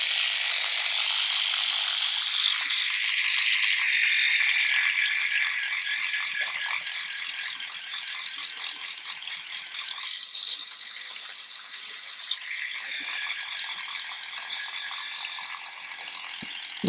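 A small Dspiae power sander works at 600 grit over rough layering, giving a buzzing, rattling whir that is loud at first and then settles into a steady grinding hum, close by with no talking.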